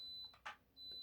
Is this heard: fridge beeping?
yes